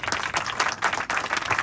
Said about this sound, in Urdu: تالیاں بجا روح القدس دے